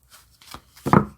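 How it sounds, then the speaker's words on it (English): A deck of oracle cards from the Lantern Oracle is shuffled by hand, with soft card rustles building to a sharper riffle burst near the end. "I have to riffle shuffle it because that's the only way it really gets all mixed up"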